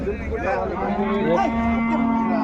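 A Punganur bull lowing at a busy cattle market, a loud, close, sustained moo that fills the whole moment over a steady low crowd murmur.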